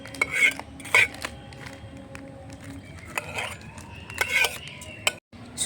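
Semolina dough being cut with small utensils in a toy mini kitchen, with sharp light metallic clinks and scrapes in an irregular rhythm, close by, with a little talk in the background.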